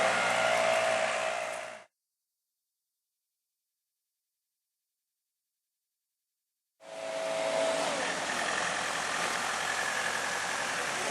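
Small 50cc racing motorcycles idle at a start line at Aberdare Park, a steady buzzing engine drone in two stretches broken by a long silent gap, with a rising rev near the end of the second stretch.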